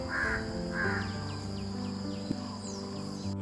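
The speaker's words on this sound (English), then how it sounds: "large-billed crow" A large-billed crow gives two harsh, hoarse caws close together at Saul Kere Lake in Bangalore, over steady background hum and faint chirps of other birds.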